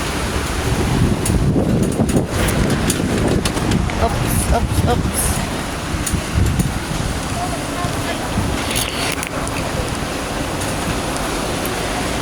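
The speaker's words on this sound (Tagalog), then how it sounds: "Lakas ng ulan." Heavy morning rain pours down in a steady, dense broadband wash around someone walking under an umbrella, close and continuous, while a person briefly speaks over it.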